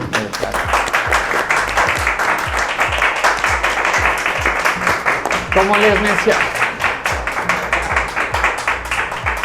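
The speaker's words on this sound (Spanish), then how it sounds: "Un aplauso, por favor" Audience applause at a Cuenca tasting event, dense clapping from many hands sustained throughout, fairly loud and close, with voices murmuring underneath.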